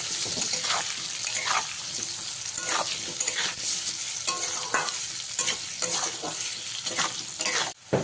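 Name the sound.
potatoes frying in oil on medium flame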